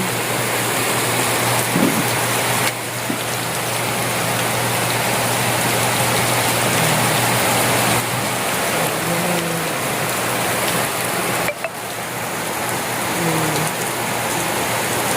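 Steady outdoor rain falls without pause, a dense continuous wash of drops on surfaces, loud and close throughout, with no voices.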